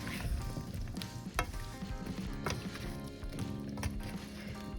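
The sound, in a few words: tossing curry veggies in a pan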